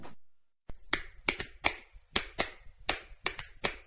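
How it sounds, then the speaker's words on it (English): A pair of hands claps by itself, close and crisp, giving about nine sharp claps in an uneven rhythm after a brief pause. "What's the universal language of a fan? Clapping your hands."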